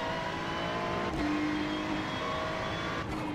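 Race car in the iRacing sim at Circuit de Ledenon powering out of a corner, a loud continuous engine note climbing in pitch with a quick gear change partway through and another near the end.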